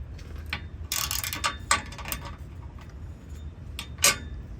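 A ratchet tightens the mount bolts on an early Ford Bronco, giving bursts of quick metallic clicking, close and uneven, with a couple of sharper clanks between strokes.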